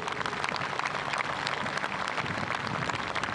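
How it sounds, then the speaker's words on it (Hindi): Audience applause at an Indian Navy operational demonstration on the sea at Malvan, a dense, even roar of many hands clapping at moderate distance. "एक बार जोरदार तालियों से अपना आभार व्यक्त कीजिए"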